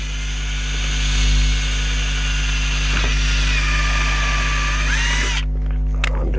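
A power drill bores a second hole through a garden planter, running as a loud, continuous whine that shifts slightly in pitch and stops abruptly near the end.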